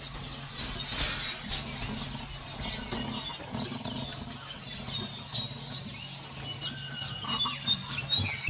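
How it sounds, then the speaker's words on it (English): A black-naped monarch calls in the forest of Tadoba, with thin chirps and whistles scattered over a soft outdoor hush, faint and somewhat distant, alongside other birds. "The bird that you see here is one of the most adorable summer visitors here in Tadoba, the black-naped monarch."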